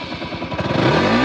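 A 2014 Bajaj Pulsar NS 200 BS3 motorcycle revs up close, its exhaust note a loud pulsing throb that climbs steadily in pitch over a brief burst.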